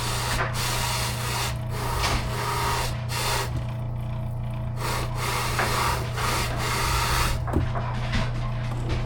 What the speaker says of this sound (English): Help that wheel get in there and bite that fat, bite that membrane, and get it removed.